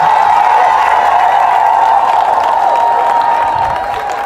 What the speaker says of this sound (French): Levez-vous, applaudissez.